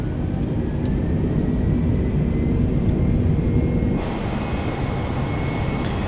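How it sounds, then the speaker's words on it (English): Airplane engine roaring during a night takeoff roll at full power, a loud, steady drone that shifts to a brighter whine partway through, with no talk. "Can you hear the plane?"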